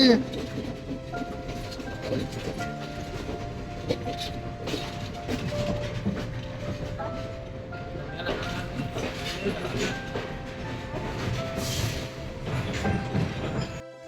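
A train rumbles and clatters steadily with faint squealing wheels at Nanu Oya railway station in Sri Lanka, while people talk nearby over the continuous noise.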